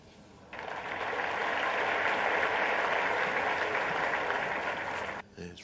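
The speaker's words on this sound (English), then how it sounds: "It's rogue applause, wasn't it?" Applause breaks out in a snooker arena at the German Masters. Dense, even clapping starts abruptly, holds steady for about five seconds and then cuts off.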